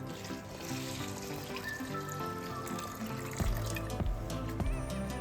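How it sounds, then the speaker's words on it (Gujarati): Water runs and sloshes steadily, close by, as flattened rice (poha) is rinsed in a bowl under a tap, with heavier splashing toward the end. "હવે આ પૌવાને છે ને આપણે બે પાણી સરસ મજાને આપણે ધોઈ નાખશું"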